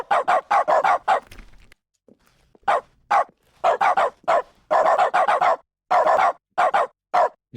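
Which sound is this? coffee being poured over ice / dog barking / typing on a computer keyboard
dog barking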